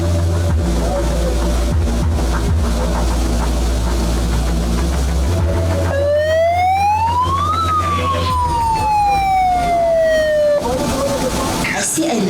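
A loud surf contest siren wails up and down in a long rising and falling sweep after a stretch of rumbling background noise out on the ocean.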